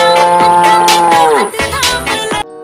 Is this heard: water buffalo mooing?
yes